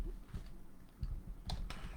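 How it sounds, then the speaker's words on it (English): Faint, quiet clicking of keys on a computer keyboard, a few soft taps scattered irregularly over a low background hum. "You hear me typing here."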